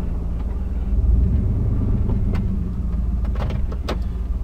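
A 1995 GMC 2500 Sierra pickup plowing six inches of snow, its engine a loud, steady low rumble with faint clunks and light rattles rising over it toward the end.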